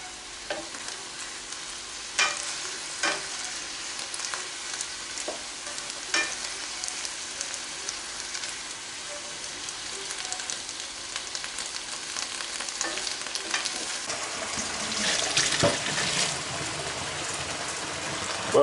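Prawn lime noodles frying in a pan for a Thai dish, a steady broadband sizzle with scattered clacks of stirring, growing louder and busier near the end as the heat is turned up.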